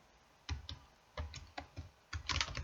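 Quiet computer keyboard typing in short bursts of several close keystrokes, separated by brief pauses.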